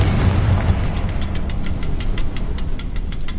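The Confringo fire spell in Hogwarts Legacy on PS5 bursts into a loud, sustained, throbbing blast, with a steady rumbling body and rapid repeated crackling pulses running through it.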